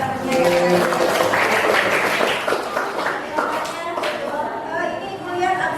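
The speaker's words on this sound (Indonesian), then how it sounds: "kasih tepuk tangan buat dua temannya ya" Students in a classroom clap for two classmates, a brief burst of scattered clapping mixed with chatter and voices throughout.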